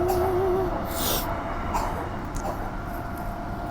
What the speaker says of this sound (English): This train runs from Armadale to Perth